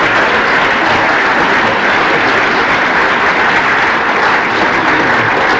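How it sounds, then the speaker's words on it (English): Sustained, dense applause from a standing lecture audience at an inaugural ceremony honoring Shaykh-ul-Islam Dr Tahir-ul-Qadri, steady and loud throughout with no pause and no voices rising above it. "Stand in a round of applause for Aziz Sayyidi Shaykh-ul-Islam."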